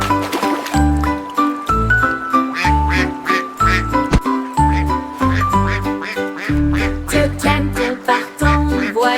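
Two ducks quacking in rhythm within a cheerful children's song, the cartoonish quacks repeating in regular pairs over bright, bouncy music with tinkling accompaniment, loud and up front.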